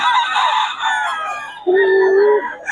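A stag rooster crows loudly and close by at a gamefowl sale, one drawn-out crow followed by a sustained clear note, with no talk over it.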